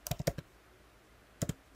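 Typing a web address on a computer keyboard: a quick burst of four soft key clicks, a pause, then a few more taps, close and fairly quiet.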